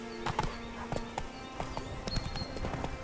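Roach the horse's hooves clip-clopping in The Witcher 3, with a quick, even trot of close, moderately loud hoofbeats and no talking.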